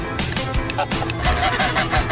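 A flock of geese honking together, dense overlapping calls in a continuous noisy chorus with no clear rhythm, loud and close throughout.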